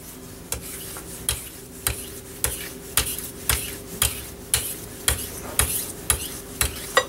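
A titanium knife drawn across a sharpening stone in even heel-to-tip strokes, about a dozen sharp scraping swipes at a steady, roughly half-second rhythm, close and crisp with no talking.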